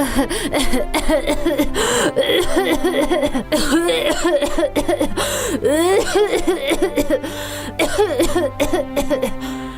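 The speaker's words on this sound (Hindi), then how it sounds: "क्या बात है माँ, खांसी फिर से बढ़ गई है क्या?" Repeated harsh coughing fits, close and loud, with strained breathy gasps between bursts over several seconds.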